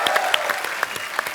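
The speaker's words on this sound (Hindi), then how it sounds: "सारी टीम के लिए जोरदार तालियां।" A short, lively burst of applause from a TV show audience, many hands clapping at once.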